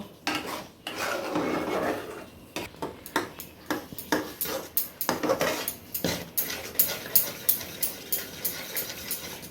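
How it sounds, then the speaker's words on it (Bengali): Phirni being stirred in a pot to thicken, the spoon scraping and clinking against the metal in a quickening run of sharp, close taps that grows more regular toward the end. "এরপরে এটাকে একটু নাড়বো, নেড়ে একটু ঘন করব"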